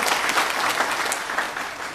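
An audience at a DXN Nepal business seminar in Dubai claps in sustained, dense applause that stays loud and even throughout.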